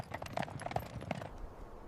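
Cavalry horses step together in unison, a short burst of light, close clip-clopping hooves over a faint background, with no voices.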